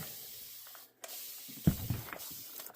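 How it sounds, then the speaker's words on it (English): Cleaner is sprayed onto a wood stove and the wall beside it. The clip carries a steady hiss of spray and a short quiet gap, followed by a few soft rubbing and handling thumps, all close by at low level. "then I'm going to spray down the stove and the wall"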